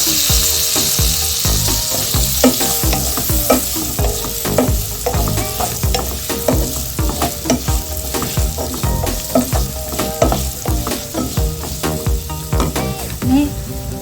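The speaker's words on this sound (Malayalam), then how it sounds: "നമ്മൾ വറുത്ത് വെച്ചിരിക്കുന്ന ഇറച്ചി ഇതിലേക്ക് ചേർത്ത് കൊടുക്കാം." Fried chicken pieces stirred into a hot pan with masala and turmeric for chicken fried rice. A loud, steady sizzle runs throughout, with the scrape and clatter of stirring close by.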